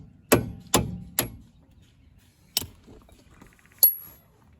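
Sharp metal-on-metal hammer strikes drive a punch against Chevy Malibu strut bolts, three quick blows close together, then two more spaced apart, loud and close with quiet between.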